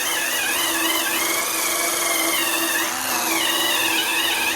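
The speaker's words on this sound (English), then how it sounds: "I use the compound with the polishing brush." A polishing brush loaded with compound scrubs a bicycle bottle cage frame mount, a steady dense buzzing rub that runs continuously at close range with slight dips in intensity.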